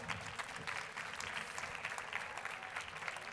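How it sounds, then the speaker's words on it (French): A crowd at a Strasbourg beauty show applauds hairdressers and their models, giving faint, steady clapping that continues evenly for a few seconds. "je vous demanderai peut-être de donner quand même un petit peu d'applaudissements pour ces coiffeurs et les modèles"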